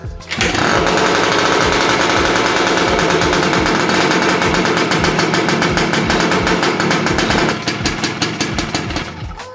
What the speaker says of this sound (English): Let's get this thing started and load it up.